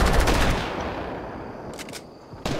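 Rapid gunfire in a Fortnite squads match, a burst of close shots at the start fading into a decaying echo, then a couple of sharp shots near the end.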